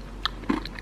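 A raspberry Lindt truffle crunches under a few sharp, close bites, with short crisp cracks and soft chewing in a quiet room.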